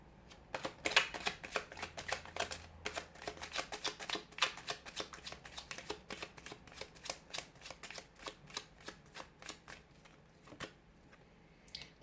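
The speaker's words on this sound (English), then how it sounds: "give the cards a shuffle and see what messages are coming in for you" Tarot cards being shuffled by hand, a soft, close riffling and slapping of the deck in irregular quick bursts, faint and steady for the whole stretch with no talking.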